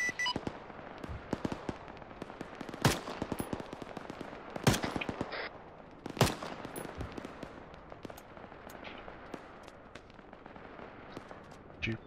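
Machine gun fire in the military video game Arma 3 crackles in bursts and single sharp shots at varying distances, with some louder reports standing out, while players talk over radio throughout.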